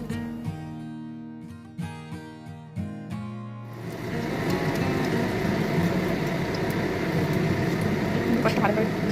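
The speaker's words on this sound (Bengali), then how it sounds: "এই তেল গরম হচ্ছে, তেলের মধ্যে এবার ভাজবো লেচিগুলো কমপ্লিট।" Dough balls for phuchka puris frying in hot oil, a steady dense bubbling sizzle that rises after a few seconds of louder voice at the start and then continues on its own, close and fairly loud.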